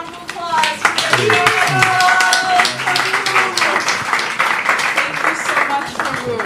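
Loud, sustained clapping from an audience at a Janmashtami celebration, with cheering voices and crowd noise mixed in throughout.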